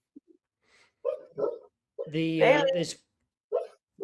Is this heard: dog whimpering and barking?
yes